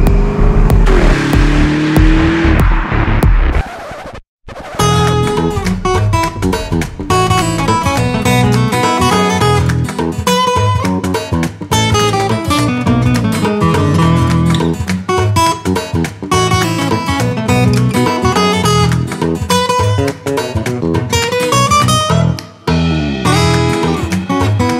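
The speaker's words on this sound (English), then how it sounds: "let's go on the Autobahn and see how fast the Urus will be" A modified Lamborghini Urus engine revs upward in pitch as it accelerates on the Autobahn for a few seconds, then rhythmic music takes over and dominates the rest.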